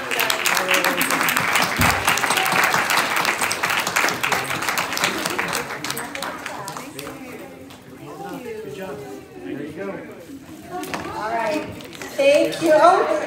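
A church congregation applauds their pastor at a Sunday morning service, dense clapping and cheering filling the first half before thinning into scattered claps, with voices and talk rising toward the end.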